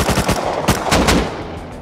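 Rapid automatic gunfire from the survival video game Rust, a loud burst of several close shots in quick succession followed by sharper cracks, with no talking.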